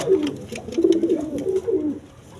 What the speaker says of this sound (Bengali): এখানে এক পেয়ার রেশার কবুতর আছে